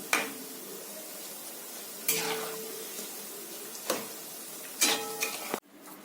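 Cabbage pakoda batter frying in a pan of oil, a soft steady sizzle broken by several sharp stirring and utensil clicks at intervals, no talk.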